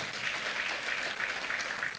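Congregation applause fills an Indonesian church worship service, a steady, dense wash of clapping that holds evenly throughout, with no pauses or voices standing out.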